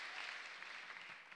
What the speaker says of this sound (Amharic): ለጌታ ለልታ ጭብጨባ አምጡ